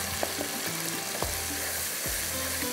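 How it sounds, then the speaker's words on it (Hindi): Spices and turmeric being fried in a pan for mash daal, a dense continuous sizzle with a few soft scraping stir strokes, close and fairly quiet. "अच्छी तरह से मसाले को आपने भून लेना है।"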